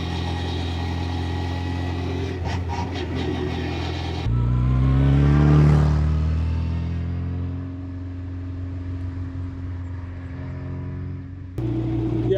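A 1959 Lotus Seven with a four-speed straight-cut gearbox shifts into third while driving, the engine droning steadily, then surging louder as it pulls through the gear before easing off, heard from inside the car.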